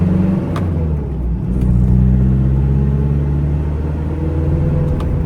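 A 2006 Isuzu D-Max SLX pickup with a 2.5-litre engine, heard from inside while driving: a loud, steady, low engine drone that swells slightly as it accelerates, with a few faint clicks over the top.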